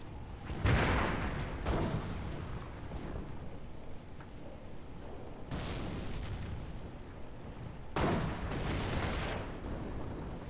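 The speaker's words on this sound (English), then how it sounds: "Gunny has his own mortar out now" Heavy booming blasts in a video game battle, mortar rounds firing and landing in several separated bursts, each a loud broadband thump with a rumbling tail over a constant low background roar, no voices.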